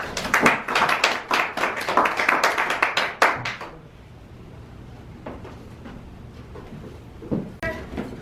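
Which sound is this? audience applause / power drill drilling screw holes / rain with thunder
audience applause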